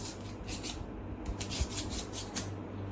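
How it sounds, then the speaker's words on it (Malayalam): A knife shaves the thick skin off a shark fish in soft, rhythmic scraping strokes, close and fairly quiet against a low background hum. "ബാക്കി കട്ടിയുള്ള ഭാഗം ഇതേപോലെ നമുക്ക് സ്കിൻ കട്ട് ചെയ്ത് കളയാം."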